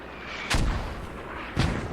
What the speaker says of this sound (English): These mortars are on top of it, man.